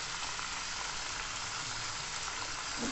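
Chicken meat fries in a pan for a sesame seed chicken dish, giving a steady, close, even sizzle with no voices over it.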